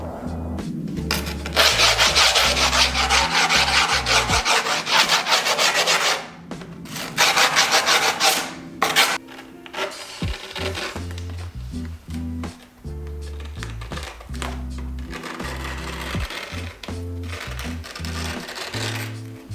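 Grip tape is pressed and rubbed down onto a Primitive skateboard deck, producing loud, close scraping and rasping strokes in bursts with short pauses between them.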